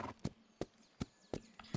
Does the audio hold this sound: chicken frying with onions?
no